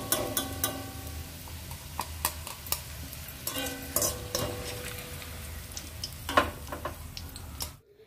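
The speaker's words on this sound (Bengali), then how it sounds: "পেঁয়াজ ভালো মতো ফ্রাই হয়ে গেছে, এবার তুলে নেব" Fried onions in a pan are stirred and scooped out with a metal utensil, giving repeated sharp scrapes and clinks over a low sizzle before ending abruptly, with no talk.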